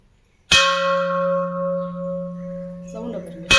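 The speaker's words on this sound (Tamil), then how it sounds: "நல்ல கோயில் மணி மாதிரி சவுண்டு." A large antique brass vessel, 13 inches across and holding about 10 litres, is struck once and rings out like a temple bell, a loud clear tone with steady harmonics that sustains for seconds before a second strike at the end.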